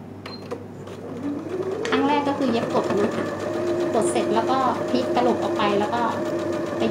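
A sewing machine runs steadily, stitching around pieces of fabric being joined for patchwork, its mechanical whir and rapid needle clatter continuous and close throughout.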